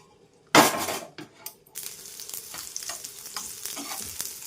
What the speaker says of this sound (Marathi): कंदा छान लाल होईपर्यंत भाजणार आहे